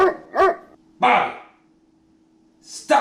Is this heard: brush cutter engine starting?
no